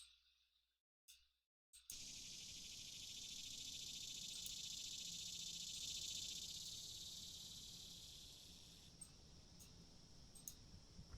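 Cicadas drone in a dense, steady, high-pitched buzz that swells and then fades slightly, following a few brief clicks and a moment of silence at the start.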